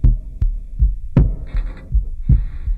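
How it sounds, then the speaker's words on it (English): A synth preset in a suspense score, its granular section layering subtle noise over deep, thumping pulses that repeat in an irregular throbbing rhythm, with faint airy hiss between hits. "this granular section here adds this subtle noise"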